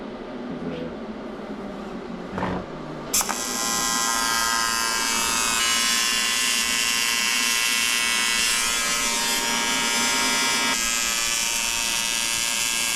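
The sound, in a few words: welding metal pieces together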